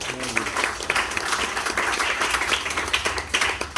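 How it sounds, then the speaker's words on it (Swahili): A church congregation claps together in a dense, sustained round of applause, with scattered slaps and some voices mixed into the crowd noise. "Pigeni Bwana Yesu makofi."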